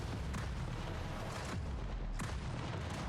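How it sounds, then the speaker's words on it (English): A video game boss launches a salvo in R.I.P. on max difficulty, producing a dense, loud rumbling barrage of booming blasts with a couple of sharper bursts standing out, continuous for about three seconds. "this one ability, where he launches a salvo"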